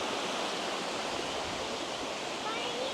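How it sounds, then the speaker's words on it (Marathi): A village stream runs swollen with monsoon rainwater, making a steady, close, unbroken rush of water that fills the whole clip. "हे बघा हे कसं आलं पूर्ण वड्याला पाणी"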